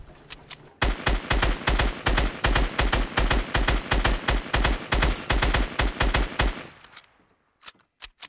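Rapid automatic gunfire from a shooting video game where players build, a steady stream of sharp shots for about six seconds that fades out, followed by a few isolated shots.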